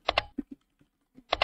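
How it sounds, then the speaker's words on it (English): Crisp computer keyboard keystrokes while playing online shogi: a pair of loud clicks, a few softer taps, then another loud pair, close and isolated. "Don't know why I'm typing again."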